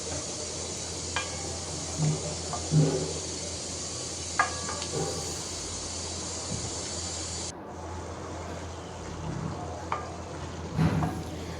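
Curry fries in a pan while it is stirred, a steady close sizzle with intermittent scraping and clinking of the spoon against the pan throughout.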